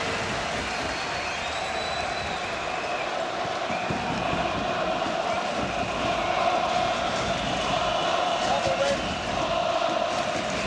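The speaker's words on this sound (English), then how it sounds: "roars from around the crowd as they finish their national anthem" Dense stadium crowd roar at a 1996 European Championship football match between Switzerland and the Netherlands, with Dutch fans cheering as their national anthem ends; a steady, broad wall of noise holds throughout, swelling slightly toward the end.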